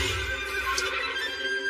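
A horse whinnies on a farm, a loud, close, drawn-out neigh heard alone.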